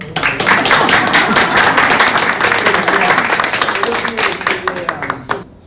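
Audience clapping at a literature talk, a dense burst of applause that holds steady for several seconds and then thins out toward the end, with some voices mixed in.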